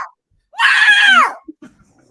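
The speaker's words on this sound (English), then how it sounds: "Sorry, I had to scream it out a little bit" A person lets out a loud, sustained scream lasting under a second, rising and falling in pitch, during a lively reaction party for the Mandalorian Season 3 finale, followed by brief small noises.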